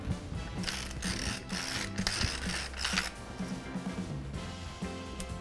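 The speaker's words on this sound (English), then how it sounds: "Now you're going to crack some black pepper." Close, steady grinding and clicking of a pepper mill cracking black pepper into coarse pieces for brown sugar pepper bacon, a continuous ratcheting crunch lasting several seconds with no talk.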